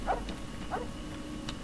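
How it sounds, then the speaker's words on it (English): A dog in Fallout: New Vegas gives two short barks a little over half a second apart, moderately close, followed by faint rustling and a softer trailing sound. "Just barking at Cheyenne. Stupid dog"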